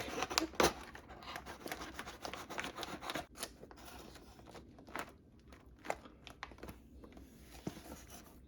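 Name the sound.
knife cutting homegrown mushrooms at the surface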